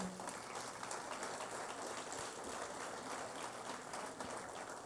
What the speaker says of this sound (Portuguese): vamos aplaudir Jesus pela sua vida